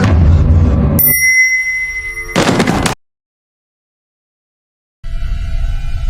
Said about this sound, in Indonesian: Gladys membunyikan bel kecil.